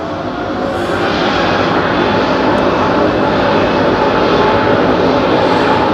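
An Emirates airliner landing at London Heathrow Airport makes a loud, steady roar of jet engines that swells slightly and holds broad and constant throughout.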